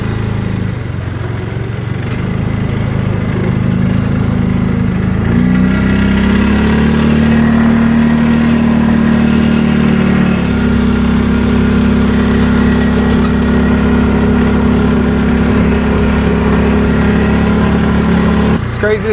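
A UTV engine fitted with an extra muffler runs steadily and close by, a low droning hum that shifts pitch slightly midway, with no exhaust bark heard over it.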